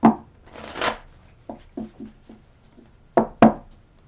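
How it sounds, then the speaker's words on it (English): Cards being shuffled: a long riffle followed by a series of sharp, separate taps and snaps, close and crisp in a quiet room. "I'm going to give it 3 more shuffles"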